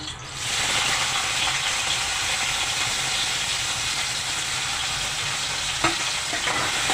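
Curry leaves and tomato go into hot oil in a kadhai and sizzle loudly and steadily for the whole stretch, a dense hiss broken near the end by a faint clink of a utensil.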